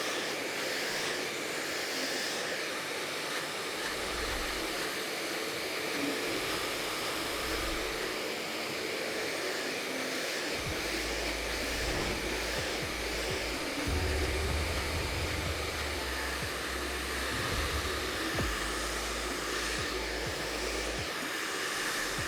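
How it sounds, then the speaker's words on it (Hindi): A Vega Pro Ultra hair trimmer runs steadily during a haircut, a constant high-pitched electric whir with soft low thumps and shifts as it moves over the hair, fairly quiet, no voices. "and this is a pro ultra trimmer which I am using it"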